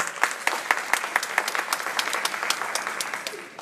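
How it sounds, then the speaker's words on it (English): Audience applause at a leadership induction ceremony, with one close, sharp clapper keeping a regular beat over a dense spread of clapping that thins slightly toward the end. "Give yourselves a round of applause again."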